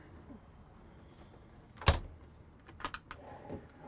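A small kitchen drawer in a 2020 Winnebago Boldt 70KL motorhome opens with one sharp knock near the middle, followed by a few lighter clicks and rattles at close range, no talking.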